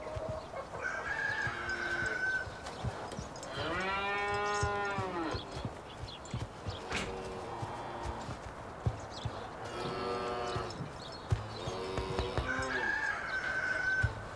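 A cow on a farm moos in several long, drawn-out calls spread across the clip, while roosters crow nearby in between.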